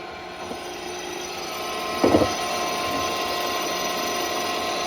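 A Koepfer 150 horizontal gear hobbing machine runs with its gears rotating, a steady broadband mechanical whir and hum with one brief louder clatter midway, close and continuous.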